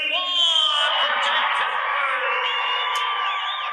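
A crowd at a horse show fence-work run cheers and whoops loudly, a continuous wash of yelling voices with rising shouts, sustained from start to finish.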